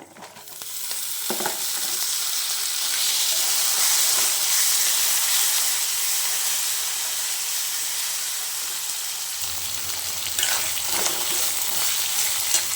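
Ginger pieces fry loudly in oil for allam pachadi, a dense, bright hiss that runs steadily throughout, with a brief clatter near the start and a slight shift in tone toward the end.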